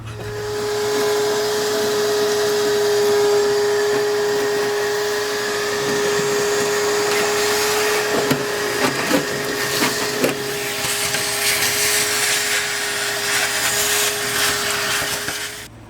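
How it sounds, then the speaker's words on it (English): A steady vacuum cleaner drone with a high whine runs throughout, turning rougher and more uneven in the second half as it works over the interior surfaces of a 1981 Mustang. "We got it all vacuumed out."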